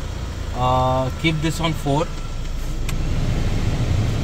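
A started Mahindra Thar idles with a steady, low engine hum in the background while someone talks over it close by.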